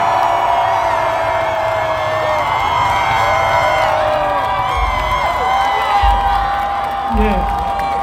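Large outdoor political rally crowd in front of Seoul City Hall cheering, whooping and applauding loudly and continuously, with a sustained roar and bursts of shouting over a low rumble.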